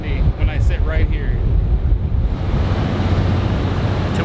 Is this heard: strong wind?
yes